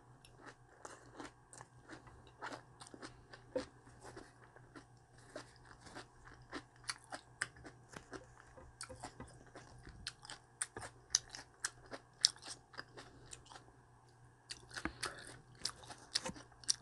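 Close, crisp crunching as raw cabbage and perilla leaf vegetable wraps are bitten and chewed, many sharp bites and steady chewing in an otherwise quiet room, growing denser toward the end.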